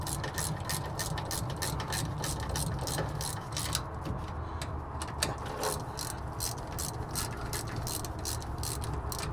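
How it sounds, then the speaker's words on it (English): A torque wrench ratchets on a 1957 Dodge Power Wagon, giving rapid, evenly spaced clicks over a low background hum, with a short pause around the middle before the clicking resumes, fairly faint throughout. "I'll need to get my torque wrench out, 50 foot-pounds"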